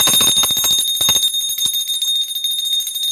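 An electric alarm-style bell rings in a rapid continuous rattle with a steady high tone, loud and close, fading into sparse clicks after about a second and a half.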